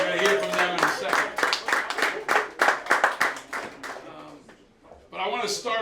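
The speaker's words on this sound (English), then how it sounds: "you guys can start by giving them a round of applause, please" A few people clap rhythmically at a 9/11 service celebration held in Fraunces Tavern, a sparse, uneven round of applause that fades out before talking resumes.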